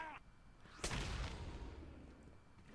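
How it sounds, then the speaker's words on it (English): A loud burst of distant gunfire or a blast booms out in the video game Batman: Arkham Asylum, then a rumbling rattle of shots trails off over a steady low background. "So you can hear the gunfire off in the background."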